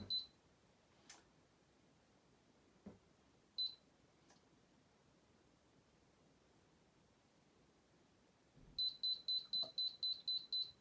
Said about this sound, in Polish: automatycznie słyszymy sygnał dźwiękowy